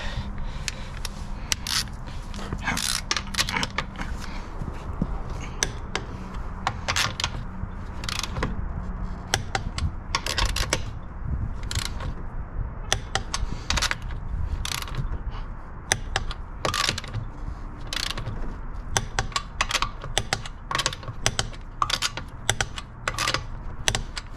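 Torque wrench tightening lug nuts on a 2000 Corvette, a long series of sharp ratcheting clicks in uneven bursts, close and fairly quiet, with no talking.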